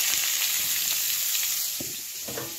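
Potatoes drop into hot mustard oil with five-spice in a wok, producing a close, steady frying sizzle broken by a few soft thuds and stirring knocks.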